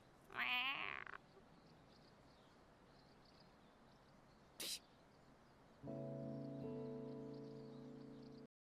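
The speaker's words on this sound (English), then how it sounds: "That is a very thin cat." A thin cat gives one brief, faint, rising meow against quiet background hiss. A short sharp noise follows, then a steady tonal hum.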